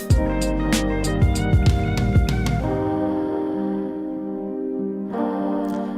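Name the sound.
beat bridge section with lead and tom transition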